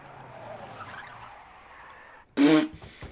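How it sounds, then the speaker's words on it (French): Cars skid in the video game Yakuza 4, a sudden loud burst of tire screech and engine noise near the end, following a stretch of quiet low background sound. "les voitures, soyez un peu plus discrets. Au lieu de faire des dérapages en Y là devant le truc."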